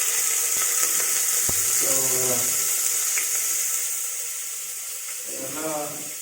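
Onions fry in a pan with a constant, close, bright sizzle, while a person speaks briefly over it at a couple of points.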